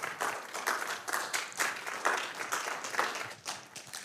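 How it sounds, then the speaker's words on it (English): Theatre audience applauding for a guest speaker at the end of an evening talk, a dense steady wash of clapping at moderate volume that holds for about four seconds without voices. "Round of applause"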